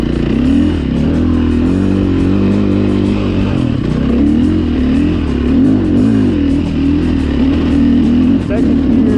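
A KTM 500 EXC dirt bike engine pulls through its gears on desert trails, a loud, close, rising and falling drone, with a rider speaking over the engine noise.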